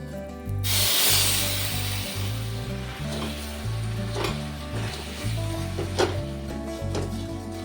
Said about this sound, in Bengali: এখন গুড়টাকে আগে কষিয়ে নেব।